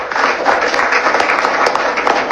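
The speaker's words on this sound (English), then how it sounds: "Another round of applause for him." An audience claps in a brief, dense burst of applause at a press conference, steady and close throughout.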